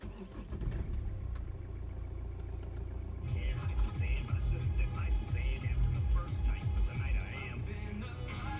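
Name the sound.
car engine starting and idling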